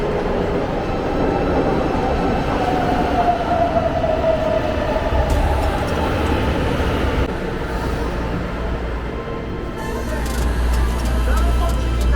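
A São Paulo metro train rumbles and rolls through an underground station, with a steady broadband roar, a rising wheel whine, and brakes hissing near the end, all close and loud.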